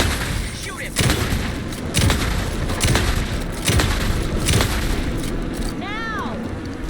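Gunfire and heavy booms ring out in the horror video game Alan Wake 2, a dense run of loud shots and impacts over a rumbling backdrop, with voices in the game shouting over the shooting.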